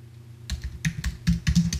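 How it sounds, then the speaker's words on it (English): Close, clicky keystrokes on a computer keyboard as a prompt is typed, starting after a short quiet lull and continuing in an uneven burst of taps over a low steady hum. "So as simple as typing in commands or prompts."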